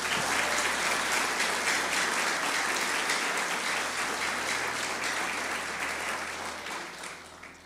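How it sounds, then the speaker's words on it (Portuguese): A church congregation applauds together, a dense, continuous wash of clapping that holds strong for several seconds and then slowly fades. "Vamos aplaudir ao Senhor Jesus por isso?"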